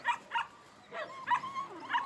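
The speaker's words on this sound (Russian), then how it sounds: "ты такая грозная собака" A dog gives a series of five short barks and yips, fairly close but not loud, spaced unevenly over a couple of seconds.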